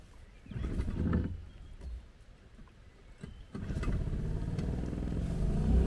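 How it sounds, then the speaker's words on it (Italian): A fishing boat's outboard engine, overheated after losing cooling water, cranks with a couple of short bursts and then catches and settles into a steady low running rumble, heard close. "Non si raffreddava il motore, si è surriscaldato e si è fermato. Però adesso si è raffreddato e riparte."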